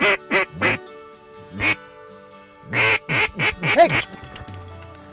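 Ducks quack in short, loud bursts across a Louisiana coastal wetland during waterfowl season, several calls close by in quick clusters, with someone shouting once among them.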